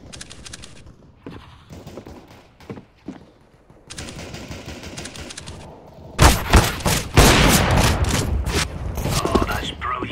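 Rapid bursts of gunfire from the video game CS:GO, loud and dense in the final few seconds after quieter, intermittent shots and game sounds earlier.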